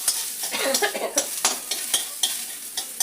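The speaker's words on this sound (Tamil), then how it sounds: "சின்ன வெங்காயம், கடுகு, பூண்டெல்லாம் போட்டு நல்லா இதை வதக்கிட்டுருக்கேன்." Small onions, mustard seeds and garlic sizzle in a pan while a spoon stirs and scrapes them in quick, uneven strokes, close and fairly loud with no voices.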